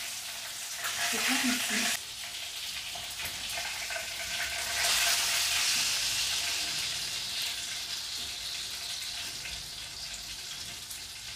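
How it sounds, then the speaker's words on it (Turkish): Entrecote pieces sear and fry in a pan with a steady loud sizzle, with occasional turning noises and a brief spoken question over the hiss. "Bunlar da bir güzel mühürlensin. Çevire çevire onları da pişireceğiz."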